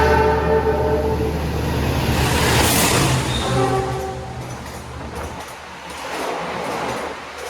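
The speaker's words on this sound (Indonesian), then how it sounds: "Ini teman-teman kereta api Sembrani menyusul kereta api Majapahit." An Indonesian Sembrani express train overtaking the Majapahit train at speed, a loud rushing roar of passing carriages with a sustained horn blast early on and rhythmic wheel clatter fading as it goes by.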